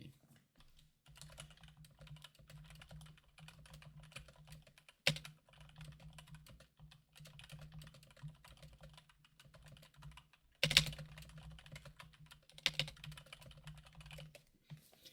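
Computer keyboard typing goes on in quick, light irregular bursts with a few louder key strikes, close and quiet, with no voices over it.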